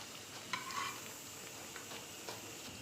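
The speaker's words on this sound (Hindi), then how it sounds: "अब बचे हुए सोया को भी फ्राई कर लेते हैं।" Pieces of malai soya chaap fry in hot oil with a quiet, steady sizzle, joined by a few light stirring scrapes and clinks, no one speaking.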